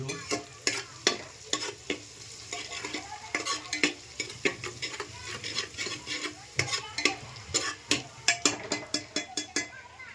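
Cumin, mustard seeds and ginger-garlic paste frying in a pan for dal khichdi, a steady sizzle under repeated scraping and stirring strokes of a spoon against the pan, close and clear.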